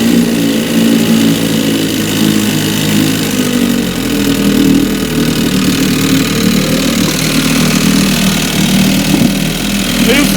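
An older 5 HP Evinrude outboard motor, freshly serviced with new plug, fuel filter and cleaned carburetor, runs steadily at close range with a constant droning hum throughout.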